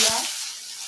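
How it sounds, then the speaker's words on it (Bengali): Onions fry in ghee with cloves, cardamom and a little cinnamon for a lemon chicken dish, giving a short, close hiss of sizzling that starts with a brief stirring rustle and then settles into a steady, fainter crackle. "সেই পেঁয়াজটাকে দিয়ে এই লবঙ্গ, এলাচ আর পেঁয়াজটা ভালো করে ভেজে নেব"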